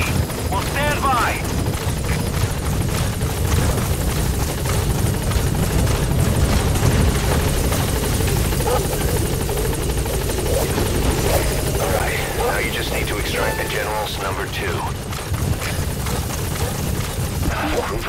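Support helicopter from Metal Gear Solid V: The Phantom Pain arriving at a landing zone, a steady loud rotor drone filling the whole stretch while radio voices talk over it.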